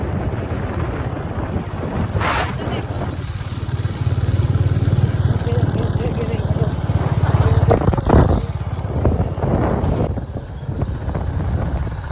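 A motorbike engine runs steadily nearby on a mountain road, a continuous low rumble with some wind buffeting, cutting off abruptly near the end.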